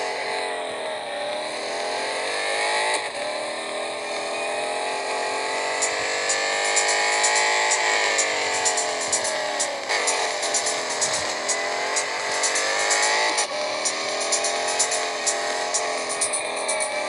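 Engine of a Ferrari 375 F1 race car in the Real Racing 3 game, revving loud and continuous with rising and falling pitch sweeps as it shifts through gears, alone with no talk.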